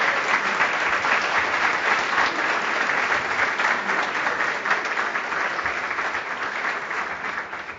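Sustained applause from a conference audience honoring a speaker at an American and Caribbean theology and spirituality congress, a steady dense clatter of many hands at even loudness throughout, with no talk over it.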